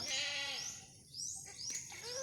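A newborn kid goat beside its mother, who has just given birth, cries in a run of thin, high bleats, some rising and some falling, heard fairly close over quiet outdoor background.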